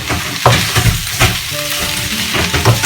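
Mushrooms fry in a crowded wok for a creamy beef and mushroom dish, giving a loud, steady sizzle with intermittent stirring scrapes and clacks, and no talking.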